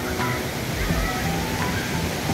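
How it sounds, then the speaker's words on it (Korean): Water pouring down from a huge rock into a mountain valley stream in Gangwon-do, a loud, steady rushing roar like a waterfall, close by, with someone talking over it. "엄청나게 큰 바위에서 내려오는 물 보세요. 거의 폭포와 마찬가지예요."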